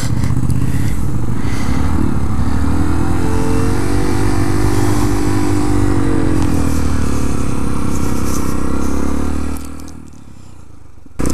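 A 2014 Honda Grom motorcycle engine runs loud and steady close by, the revs rising and dipping in a smooth sweep for about nine seconds before dropping to a softer idle near the end.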